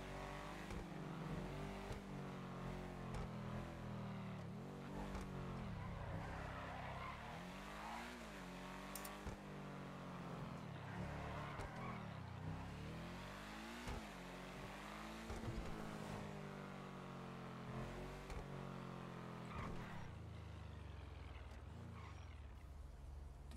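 A car engine running steadily for a long stretch, a continuous droning hum with repeated rising and falling revs, heard at a distance and fairly quiet.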